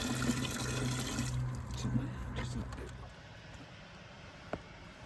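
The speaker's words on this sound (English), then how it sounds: "just getting some water now from the water bottle" Water poured from a bottle onto bare root strawberry plants trickles and splashes steadily for a few seconds, then stops, leaving a quiet room with a single small knock near the end.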